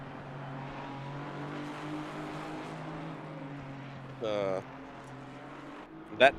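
Ginetta GT4 race car in a sim racing endurance event at Imola, its small engine droning steadily at mid distance, with a brief higher whine near the end and a commentator talking over it.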